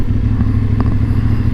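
A vehicle drives along the Adriatic coastal highway near Herceg Novi, its engine a loud, steady drone with road rumble heard close up from inside.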